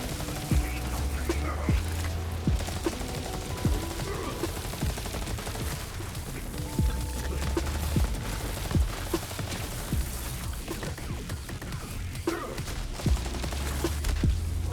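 Rapid gunfire from a companion pet in a Borderlands-style looter shooter fighting through Mayhem 10, bursts of shots and impacts crackling steadily under a dense game soundtrack, with a voice talking over it.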